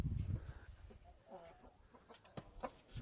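Farmyard chickens clucking nearby, a few short quiet clucks and calls scattered over three seconds after a low rumble at the start.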